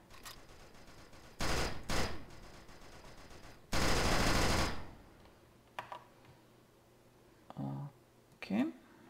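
Gunfire from a third-person cover shooter video game: a few short bursts of rapid shots, one longer loud burst in the middle, and scattered quieter clicks, with faint talk now and then.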